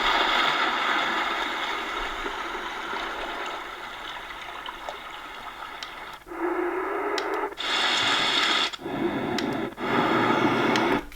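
Ocean waves from a white noise sleep sound machine cycle through steady broadband washes, with several loud surging segments that switch on and off abruptly.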